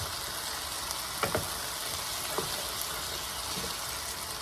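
One-pot chili mac with undrained beans being stirred in a pot, a steady soft sizzle-like simmer with a few faint scraping clinks from the spoon, no talking.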